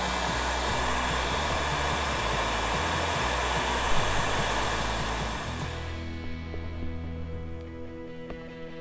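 A torch roars steadily, heating a patch of car body metal on a BA Fairmont Ghia during panel shrinking, loud and constant before easing into a quieter hiss with faint clanks near the end.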